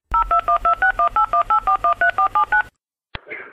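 Push-button telephone keypad tones dialing a radio station, about fifteen crisp evenly spaced beeps in quick succession, followed by a short pause and a click as the line connects.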